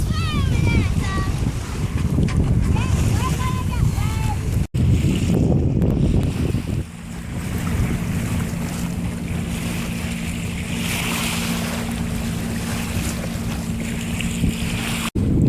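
A speedboat motors past a sailboat on the Chesapeake Bay, its engine drone steady and low beneath wind buffeting the microphone and splashing waves, with people talking aboard at the start.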